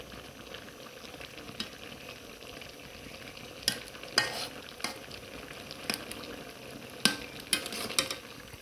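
Cauliflower and potato curry slides out of a pan, with a spoon scraping the metal in several distinct strokes over a faint background of simmering and sizzling, close and otherwise quiet.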